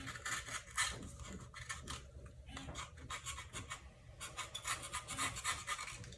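A foam core shoe sole is shaped and shaved by hand with a tool, giving close, irregular rasping and scraping strokes with brief pauses between bursts.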